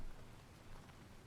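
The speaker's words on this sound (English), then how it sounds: "Very slight rain." Very slight rain falling outdoors under thick clouds, a faint, even patter of drops with a steady soft hiss, quiet and alone.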